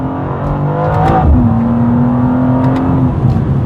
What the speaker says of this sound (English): Especially when you are downshifting, it's pretty instantaneous. Going into second gear,